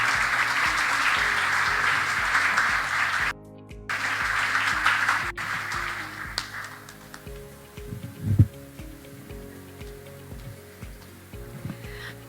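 Applause from a conference audience for two speakers at an international congress on evidence, a sustained clatter of clapping that briefly cuts out, then fades into quieter room sounds with scattered knocks.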